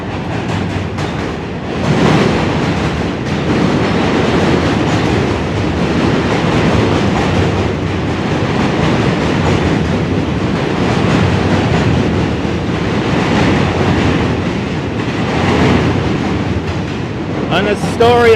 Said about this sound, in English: An Astoria-bound Q train making its way up and over the Manhattan Bridge.